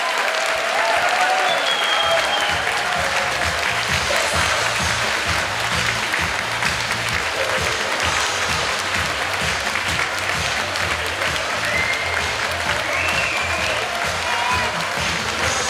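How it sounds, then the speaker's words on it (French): A large crowd at a municipality's 100th-anniversary ceremony applauds the anniversary committee with sustained, dense clapping that holds steady for a long stretch, a few faint cheers rising over it. "Hey, merci tout le monde de votre chaleureux applaudissement."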